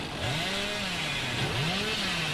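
The Hillbilly's chainsaw in the video game Dead by Daylight revs with rising and falling engine whines, a steady buzzing roar that surges twice across the moment.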